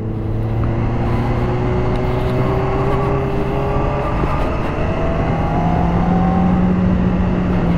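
A 2018 Honda CBR600RR sport motorcycle with original Honda fairing sounds as it is ridden, its engine droning loudly and steadily while the pitch slowly rises and falls with the throttle, under constant wind rush.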